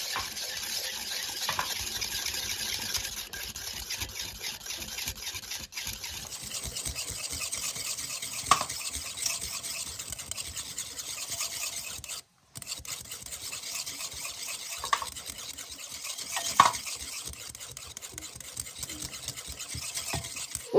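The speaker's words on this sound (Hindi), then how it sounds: "इसको हम पहले फेंट लेंगे अच्छे से जब तक ये स्मूथ कर्ड बन जाएगा" Fresh curd (yogurt) being whisked in a bowl until smooth, a quiet, continuous wet stirring and scraping with a few soft clinks.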